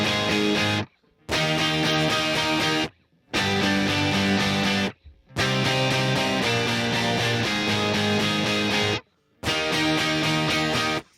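Distorted preamp guitars, panned left and right, chug power chords and a triad in loud, saturated bursts separated by short silent gaps, with no voices.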